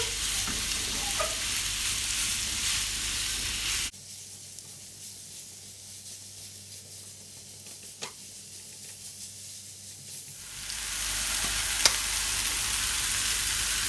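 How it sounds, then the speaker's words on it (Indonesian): Shallots and meat sauté in a hot pan with a loud, steady sizzle that drops quieter for several seconds as they are stirred, then rises again, with no voices. "bawang merahnya juga bisa ditumis terlebih dahulu, tapi kalau misalnya mau digabung dengan dagingnya boleh juga"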